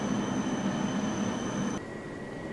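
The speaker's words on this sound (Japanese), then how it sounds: "さて列車は東京のターミナルの2つのうち1つ上野に到着" Inside a Shinkansen Gran Class car arriving at Ueno station, a steady low rumble of the train carries a thin high tonal whine that cuts off abruptly as the train slows, with no voices.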